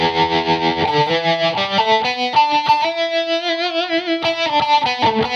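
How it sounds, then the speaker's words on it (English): Electric guitar notes and chords with a wavering tremolo pulse from a JOYO DC-15S digital amp's tremolo effect, loud and close, played alone. "tremolo effect."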